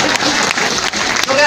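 A short burst of dense audience applause at a Hindi comedy poetry gathering, honoring a woman guest, loud and close with voices mixed into the clapping.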